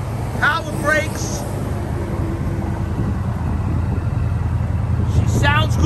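A steady, low idle from a 1964 Chevrolet Malibu SS convertible rumbles throughout while a person speaks briefly near the start and again at the end.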